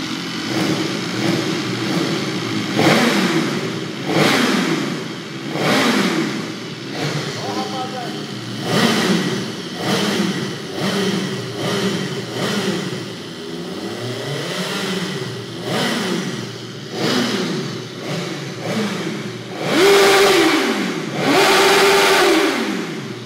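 A newly acquired motorcycle with a noisy engine and modified exhaust revs repeatedly, its pitch rising and falling in loud, close bursts while someone talks over it.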